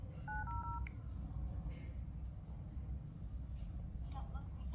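Outgoing call on an LG V60 smartphone running Android 11: a few short dialing tones near the start, then faint ringback beeps later, all over steady road traffic rumble.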